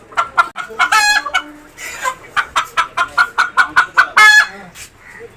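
Native country chickens at a market cluck in quick, rhythmic bursts, several birds close by with a few louder squawking calls mixed in.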